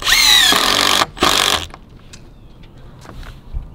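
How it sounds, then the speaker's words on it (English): Framing plies being cinched together with driven screws, two loud whirring bursts from a close power driver followed by quieter clicks and handling knocks, with no talk. "he's framing with screws"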